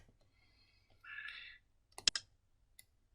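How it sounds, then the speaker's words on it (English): A computer keyboard space bar is pressed, giving a quick cluster of two or three sharp, close clicks after a brief soft hiss, with near silence around them. "I'm going to click on my space bar to rotate it"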